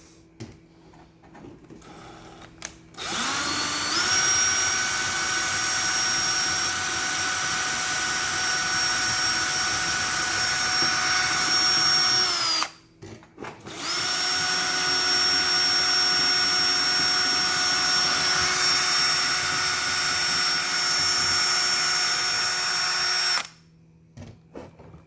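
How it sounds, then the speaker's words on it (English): A power drill whines loudly in two long bursts drilling out rivets on an aluminium roller shutter, each running about ten seconds, separated by a brief pause, with a steady high-pitched tone. "So I'm drilling out the rivets."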